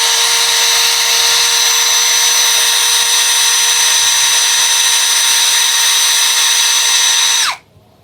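Tankmor 21v cordless hammer drill running at low speed, a steady loud whine held without a break for over seven seconds before it cuts off and winds down abruptly near the end.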